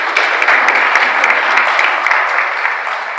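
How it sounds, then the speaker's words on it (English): Audience applause for a panel at a climate finance event in Nigeria, a steady, dense wash of clapping from many hands that stays loud and unbroken throughout. "Please, a round of applause for the panel."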